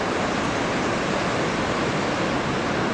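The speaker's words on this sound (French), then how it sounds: "des fois des vagues qui sont lisses, ce qui nous donne ces vagues assez courtes, un petit peu fermantes" Ocean waves break at a surf spot in Anglet on a September morning, making a continuous, loud, broadband wash of surf with no distinct gaps and no voices.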